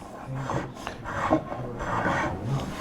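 Freshly sharpened spokeshave shaving fine curls from a curved wooden drawer front for an oxbow chest, a series of close, rasping strokes in a steady back-and-forth rhythm with no talk.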